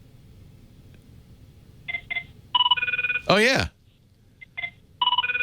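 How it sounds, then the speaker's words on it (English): An old-style electronic telephone ring chirps in repeated bursts, with a brief burst of another sound in between and a short spoken remark. "that's actually a great ringtone. That's the old phone sound"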